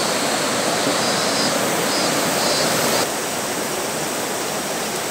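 River water rushes in a steady, dense roar along an abandoned rural tea farm in Japan, a loud unbroken flow with no voices and only a slight drop in level partway through.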